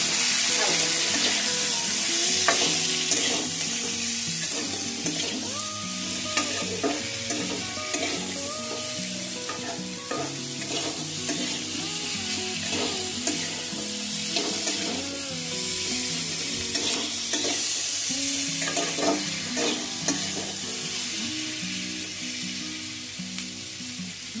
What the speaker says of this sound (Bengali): এটাকে ভালো করে নাড়াচাড়া করে ভেজে নেব।